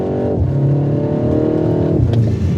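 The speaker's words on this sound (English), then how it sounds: "the throaty 4-cylinder racket, all of the burbles from the back end on the overrun and the upshift farts, it's completely fake" A 2025 BMW M135's four-cylinder engine note, synthesized through the cabin speakers, holds a loud, steady rev with a throaty hum and shifts pitch near the end.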